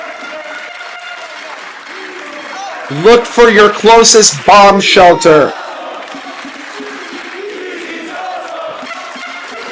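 A wrestling crowd at a match between Masato Tanaka and Mirko Mori applauds and cheers steadily around ringside, under continuous commentary, with loud shouting voices bursting up briefly in the middle.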